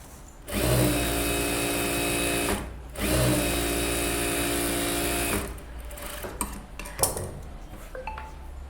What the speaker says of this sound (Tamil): ஓரத்தில் ஒரு தையல் போட்டுக்கிறேன்.